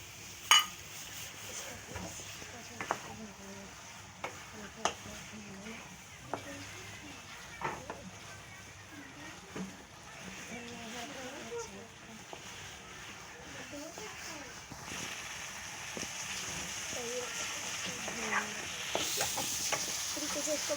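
Masala for an aloo anday ka salan being roasted and stirred in a pan, a faint sizzle under periodic scrapes and clinks of the spoon against the pan, with a voice talking over it.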